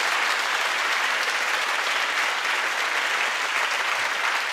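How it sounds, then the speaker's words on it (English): An audience at the Rise Awards 2022 ceremony applauds with loud, sustained, evenly dense clapping that fills the hall without a break throughout. "They deserve a massive round of applause because it's an incredible achievement."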